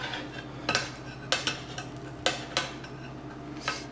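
A spoon scraping and tapping a pan as a Pringles omelette cooks, several sharp metallic clinks at irregular intervals over a faint sizzling hum, close by and with no speech.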